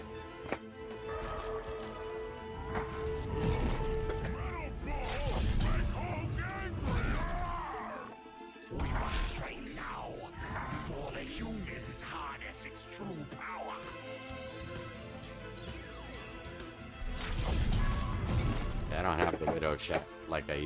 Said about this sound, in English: this pinball machine